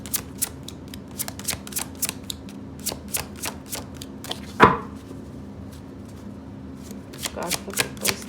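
Tarot cards shuffled for a horoscope reading: a quick rhythmic series of close papery riffles and flicks, one heavier thump midway, then more rapid shuffling.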